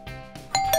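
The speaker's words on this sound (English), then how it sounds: "It sounded like a doorbell." A doorbell chimes close by in a children's indoor playground, with two clear ringing ding tones following a softer lead-in, and no talking.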